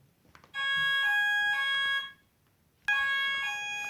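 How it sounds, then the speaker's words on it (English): A loud electronic fire alarm blares in sustained high-pitched tones, cuts out briefly, then starts again. "Oh no, the fire alarm's on."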